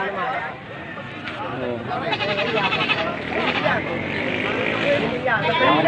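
Goats bleat repeatedly amid a busy livestock market, wavering calls overlapping one another against steady crowd noise and nearby chatter.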